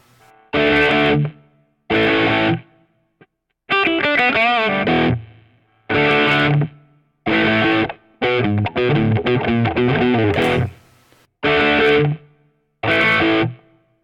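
A heavily distorted electric guitar plays a song's intro riff in short, loud chord bursts separated by gaps, with a quicker run of single notes in the middle.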